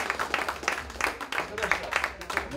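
Audience clapping breaks out in bursts to welcome a venue owner at an indoor music gathering, steady rhythmic applause under a voice talking over it.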